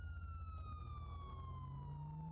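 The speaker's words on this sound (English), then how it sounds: "Why is your siren going?" In GTA V with the LSPDFR mod, a car's siren sounds continuously with a slowly descending tone over a constant low engine drone, loud and unbroken throughout.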